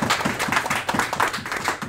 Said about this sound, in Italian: facciamo un applauso al grande direttore